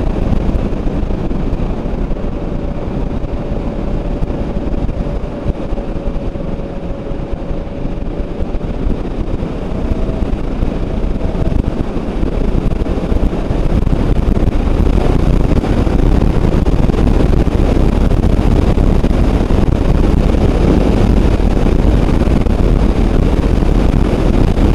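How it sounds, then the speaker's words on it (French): Steady roaring wind buffets the microphone while riding an Alrendo TS Bravo motorcycle, a loud continuous broadband rush with a faint engine whine under it. "j'avoue qu'il y a pas mal de vent sans dur"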